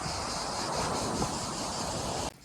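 Sea surf breaking below the cliffs at Cap d'Ail on the French Riviera, a steady broadband roar of waves and currents mixed with wind, loud and continuous before cutting off abruptly near the end.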